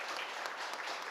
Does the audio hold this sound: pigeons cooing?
no